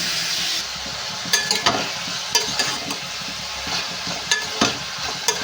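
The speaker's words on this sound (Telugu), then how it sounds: "ఈ ఉల్లిపాయలు ఫ్రై చేసుకోవాలి" Onions frying in a pan for a mango chicken dish, a constant close sizzle with repeated sharp clinks and scrapes of a spoon stirring throughout.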